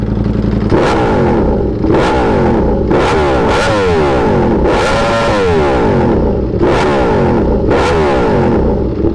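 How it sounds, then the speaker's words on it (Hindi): A loud Ducati V4 motorcycle with an SC-Project full-system exhaust revs hard again and again, each blip rising and falling sharply with a raspy, aggressive exhaust note, close up. "बैकफायर नहीं मार रही बाइक, पर आवाज़ बहुत ज़्यादा तेज़ है"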